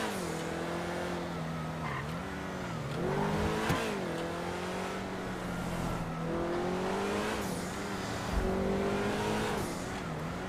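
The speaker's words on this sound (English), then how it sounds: "listen to the engine roar" A Grotti Itali Classic sports car, modeled on the Ferrari 308 GTS, in GTA Online revs up and down repeatedly in smooth rising and falling sweeps, loud and continuous, with occasional tire squeal.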